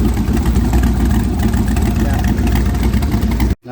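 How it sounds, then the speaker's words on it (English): A 5.3 LS V8 engine swapped into a 1996 Camaro with a blown head gasket revs loudly and steadily, a close deep rumble that cuts off abruptly just before the end. "Alright, I revved it up."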